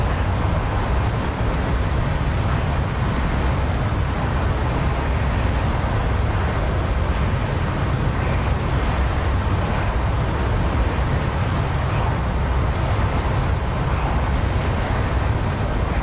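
Steady, dense rumbling roar of an F-14B Tomcat airframe buffeting during a sustained high-G turn in DCS World, a continuous loud broadband shake with a thin whine overhead, no talk.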